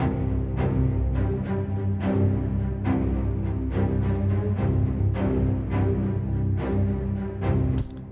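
A dense orchestral passage with rapid repeated string and percussion hits driving forward steadily, loud and full throughout.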